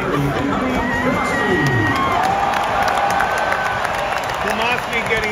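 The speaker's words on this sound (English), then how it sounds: "Kromoski getting a nice cheer." Stadium crowd cheers loudly and steadily for a hometown Inter Miami player at a soccer match against Nashville, a dense roar with scattered whoops and shouts carrying through the full stretch.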